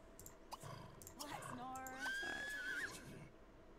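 A horse whinnies in The Sims 3 Pets, a rising then falling neigh over faint game sounds while someone talks over it.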